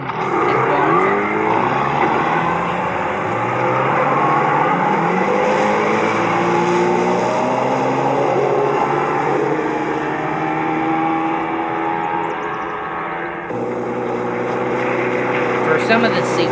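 Speedboat chase through a Louisiana bayou in the Bond film Live and Let Die: roaring motorboat engines run continuously under someone speaking over them, with a brief change in the engine noise near the end.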